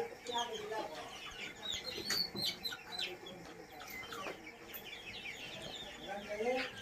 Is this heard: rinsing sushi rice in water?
no